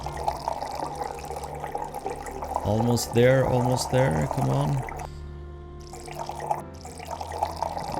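Liquid, about 150 milliliters, pours in a short gurgling stream in a cooking simulator video game while a person speaks nearby, then the pouring stops.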